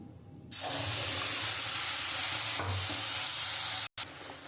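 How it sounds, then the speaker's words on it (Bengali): An onion spice paste drops into hot oil in a wok for chicken kosha and bursts into a loud, close sizzle that continues steadily, with a brief stir and a short break near the end. "আমি কড়াইয়ের মধ্যে তেল দিয়ে দিয়েছি। আমি যে মশলাটা যে পেস্ট করে রেখেছি, আমি এবার এই মশলাটা দিয়ে দেবো।"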